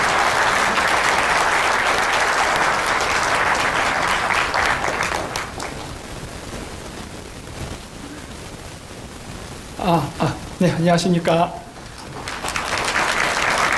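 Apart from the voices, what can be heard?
audience applause welcoming a lecturer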